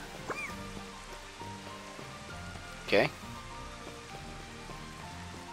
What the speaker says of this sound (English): No, it's raining. Okay, I thought it was maybe for the dream effect, but no, it's raining.